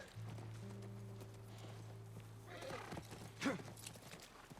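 A horse in the game The Last Of Us Part I gives a whinny near a ranch, with hoof clip-clops nearby, over a low steady ambient hum and faint background sounds.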